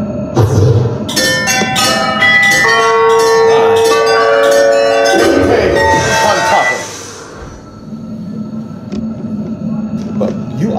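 In a wand shop at Universal Studios Hollywood, a magic bell effect swells into loud, shimmering chimes and ringing tones for several seconds and then fades, after which a voice speaks over room noise.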